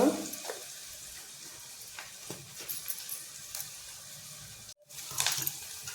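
Onion and tomato sautéing over a low flame for sprouted moth bean usal, a soft steady sizzle with occasional scraping stirs and a brief gap near the end, fairly quiet and close.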